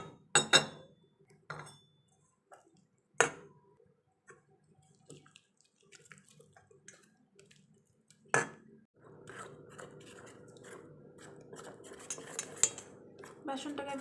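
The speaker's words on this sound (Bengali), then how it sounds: "অল্প অল্প পানি দিয়ে বেসনটাকে মেখে নেব।" Gram flour batter is worked with water in a bowl: sharp spoon clinks against the bowl early on, scattered taps, then a continuous wet stirring and slapping with clinks near the end, close and fairly quiet.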